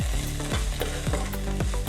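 Sewali flower fry is stirred in a hot pan, a spatula scraping in quick repeated strokes over a steady close sizzle.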